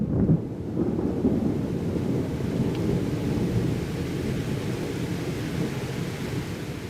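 A continuous wash of thunder and rain serves as a storm effect in a reading of T.S. Eliot's The Waste Land, a steady low rumble and hiss at even loudness, with no voices.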